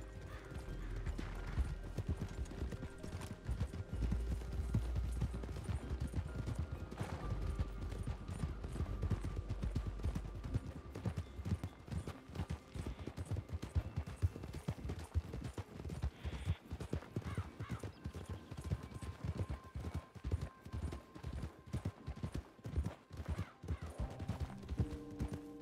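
Horse hooves in the RedM western roleplay game: a steady, close clip-clop of hoofbeats runs throughout, with an occasional whinny and faint creaking of tack, and no one talking.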